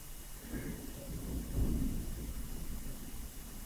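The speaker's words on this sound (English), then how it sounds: "there is a bit of thunder and lightning happening." A low, distant rumble of thunder swells briefly through steady background noise, with faint rain-like hiss throughout.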